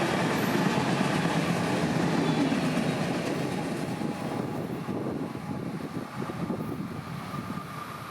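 Freight train 457, a manifest freight trailed by mostly loaded auto racks, rolling steadily past in Florida with a continuous rumble and faint clickety-clack of wheels on rail, close and constant throughout.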